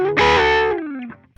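Overdriven electric guitar through a Line 6 HX Stomp: a single sustained, saturated chord that rings for about a second, then a sliding note fades out, followed by a brief pick noise at the end.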